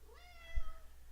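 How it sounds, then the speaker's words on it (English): A pet cat named Neko gives one short, rising-then-falling meow, soft and somewhat distant over a quiet low hum, with no talking. "oh, hi Neko, can you hear my cat?"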